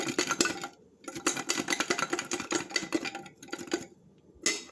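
Air-fryer chicken wings shaken with sweet chilli sauce in a transparent bowl, loud rattling and sloshing bursts in several rhythmic bouts separated by brief pauses, close up.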